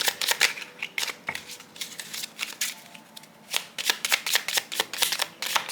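Playing cards are shuffled repeatedly during a tarot-style card reading, crisp riffling bursts in an irregular rhythm, close and fairly quiet.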